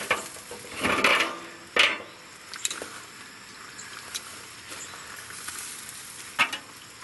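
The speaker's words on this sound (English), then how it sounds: "We're gonna flip them. So we're just gonna move the rebar out of our way." Chicken thighs being flipped in a Pit Barrel Cooker after lengths of rebar are moved aside: a soft sizzle runs underneath while sharp metallic clanks and knocks land at irregular moments, one dense burst early on and scattered clicks after.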